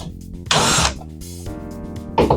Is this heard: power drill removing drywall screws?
yes